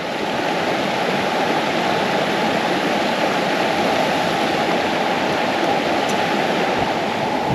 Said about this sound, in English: Just surrounded by creeks.